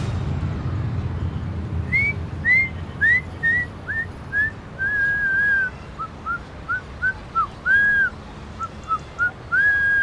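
A person whistles a lively tune of short, repeated notes with a few longer held tones, clear and close over a low background rumble.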